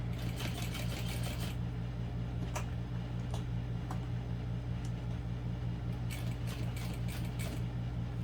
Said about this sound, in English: I'm just going to start at the bottom of one side and sew all the way up to the hardware